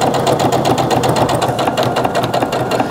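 Quilt seam being stitched on a sewing machine at a quarter-inch allowance for a pinwheel quilt, a loud, steady rapid needle clatter with a continuous motor whir running through the whole span.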